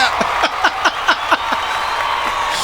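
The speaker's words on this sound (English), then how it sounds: "We gotta give Sweetie a clap." A handful of people give a brief, scattered round of clapping for a guest in a podcast studio, a few sharp claps in quick succession that fade out after about two seconds.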